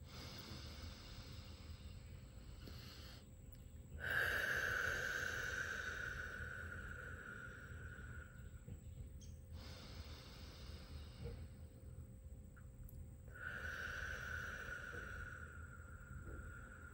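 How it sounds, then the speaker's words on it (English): Slow, deep clearing breaths during a calm meditation, two long airy exhalations rising and fading away, quiet and close with no talking between them. "3 clearing breaths."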